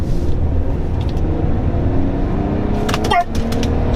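A 1998 Lexus GS300 accelerates with a smooth, low engine rumble building steadily from inside the car, and a short excited voice cuts in near the end.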